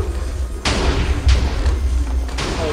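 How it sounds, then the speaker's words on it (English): Three muffled booms land one after another, deep and rumbling, over a constant low roar, explosions in a Minecraft Techmage tournament. "Oh, these explosions are rampant."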